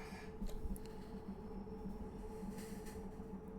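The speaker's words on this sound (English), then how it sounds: "Can you hear that compressor going?" Steady onboard rumble of a train in Train Simulator Classic on the London Victoria to Tonbridge route, with a continuous humming drone from the air compressor running under a constant, even hiss.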